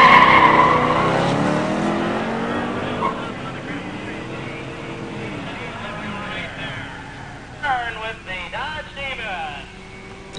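A 1971 Dodge Demon with a 340 automatic drag races an 1986 Corvette with a 350 automatic at a pure stock drag event, engines roaring loudly near then fading off down the strip, with tire squeal and announcer talk over it.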